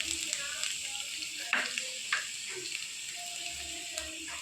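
Garlic frying in oil in a pan, a steady close sizzle with a few sharp crackles and spatters.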